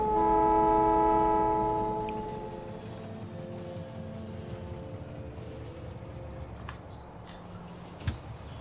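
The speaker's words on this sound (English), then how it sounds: "Man, that train's so much faster." A fast electric train running at high speed in the Factorio factory-building game, with steady layered horn-like tones and a rolling rumble that gradually fades as it passes, followed by faint mechanical clicks.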